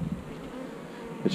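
Worker bees and drones droning on a frame pulled from the hive, a close continuous buzz with a brief louder swell near the end.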